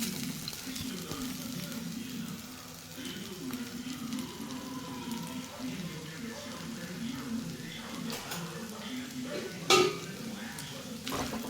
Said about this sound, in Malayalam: ഇതിനെ നമുക്കൊന്ന് നന്നായിട്ട് വറുത്തെടുക്കണം.